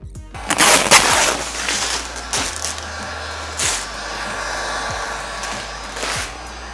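A heat gun warms vinyl wrap on a brand-new Lexus bumper, giving a steady, close blower hiss broken by a few sharp clicks and taps.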